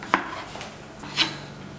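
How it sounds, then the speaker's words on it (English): Knife shredding ingredients into thin strips for a Vietnamese kem chuoi dish, heard as two short crisp cuts against a board, the second louder, with a quiet kitchen in between. "I like to cut these into thin shreds so that you can layer it onto the Chuoi"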